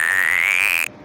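A man imitates a frog with his voice: one close, clear, sustained whistle-like tone that rises slightly in pitch for nearly a second and then cuts off.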